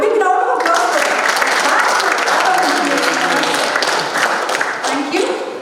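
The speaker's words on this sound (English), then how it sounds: "Can I have a big round of applause for that?" Loud, dense applause from a seminar audience filling the room, sustained and even before tapering slightly at the end, with a few voices mixed in.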